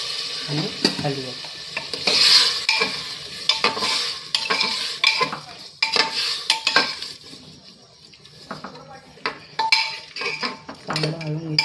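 Masala curry with cauliflower stirred in a pan after a splash of water, giving uneven bursts of spoon scraping and clinks against the metal over a soft sizzle, louder at the start and trailing off midway.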